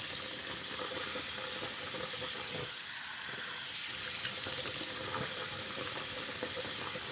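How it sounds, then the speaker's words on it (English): Tap water runs steadily into a bathroom sink while someone rinses their face, a continuous close splashing hiss with a brief dip partway through. "Right now, I'm rinsing off my face"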